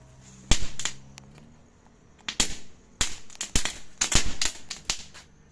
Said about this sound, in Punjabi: ਹੁਣ ਇਹ ਲਾਲ ਪਟਾਕੇ ਵਾਹ ਇਕੱਠੇ ਕਰਕੇ ਨੇ ਕਿਰ ਜਾ ਚਲਾ ਦੇ